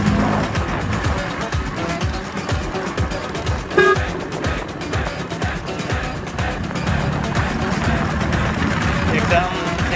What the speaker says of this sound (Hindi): बहुत प्यारा हॉर्न है मेरे स्कूटर का